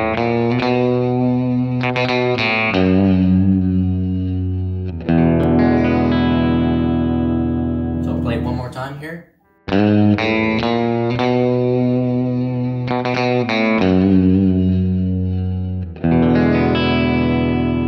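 An electric guitar picked right at the edge of the bridge rings out with a twangy, thin tone for a song, several strummed and picked phrases with brief pauses, close and alone.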